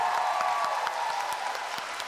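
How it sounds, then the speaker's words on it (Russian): Concert audience applauding steadily throughout, with individual claps standing out from the dense clapping, at a moderate level and with no talking. "аплодисменты ему ваши"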